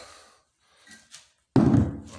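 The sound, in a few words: metal firebox door knocking shut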